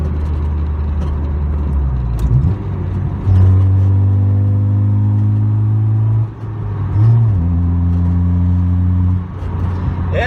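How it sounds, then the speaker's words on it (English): A naturally aspirated single-cam Honda Civic being driven at a car show, its engine droning loud and close, then revving up through smooth gear changes with brief dips between shifts. "Not too bad for an NA Civic."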